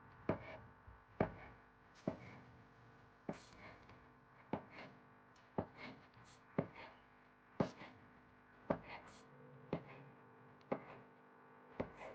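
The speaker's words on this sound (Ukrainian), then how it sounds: "Беремо три варених яйця і це все ми ріжемо на дольки" A knife slices three boiled eggs into wedges on a cutting board, each cut landing as a crisp, sharp knock. Roughly a dozen evenly spaced strokes come about once a second, close and clear, with no talking.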